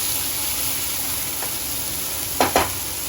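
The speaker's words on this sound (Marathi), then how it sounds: "भाजया टमॅटो बरा 1-2 मिनट न्हू मातशें भाजून घेवया" Tomatoes fry in a pan with a spoonful of paste, a steady broad sizzle running throughout and two brief stirring scrapes near the end; no one speaks.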